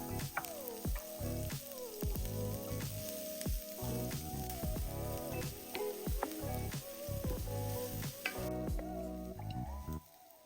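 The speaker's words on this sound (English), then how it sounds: "we're just gonna add some olive oil. And we're gonna add in our onion." Chopped onion sizzling and frying in olive oil in a pan, a steady crackling hiss broken by stirring scrapes and occasional utensil clinks, close and continuous with no talking.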